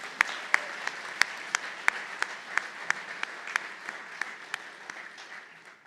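A small audience at a county board of supervisors meeting gives a round of applause for long-serving employees, with soft sparse clapping and a few sharp individual claps standing out.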